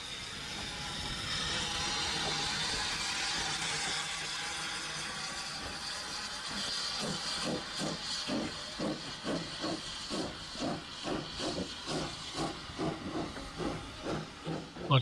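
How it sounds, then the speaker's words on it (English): A steam railway engine arriving during an Easter steam gala, opening with a loud sustained hiss of steam, then settling into rhythmic chuffing exhaust beats that grow steadily more distinct as it draws near. "This is the engine that belongs to the railway."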